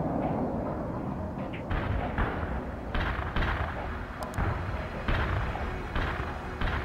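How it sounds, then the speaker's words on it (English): Artillery barrage in the World in Conflict video game, a dense run of heavy booming blasts and rumbling impacts rolling on continuously at close range, with no talk over it. "Artillery barrage inbound"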